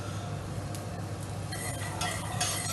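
Onion sautéing in a pot, a faint steady sizzle with soft stirring scrapes and light clinks of a utensil, close but quiet, no voices.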